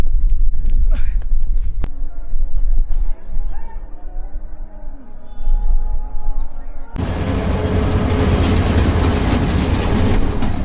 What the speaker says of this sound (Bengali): তো আমাদের ট্রেনটা চলে আসলো আর অল্প কিছুক্ষণের মধ্যে আমরা তিস্তা ব্রিজের উপর উঠবো